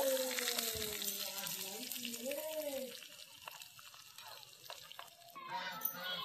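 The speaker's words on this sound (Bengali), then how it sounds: "তো এবার আমরা পেঁয়াজ কুচি দিয়ে দেব।" Chopped onion sizzles and fries in a miniature cooking pan while making jeera rice, a steady broadband hiss running under a voice talking near the start, with a few stirring clicks.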